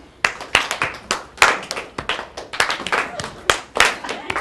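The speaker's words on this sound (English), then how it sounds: "and now we're going to clap." Audience at a Kansas teacher event clapping along in rhythm, a series of sharp, fairly regular hand claps from a group, a bit uneven in timing, with faint background murmur.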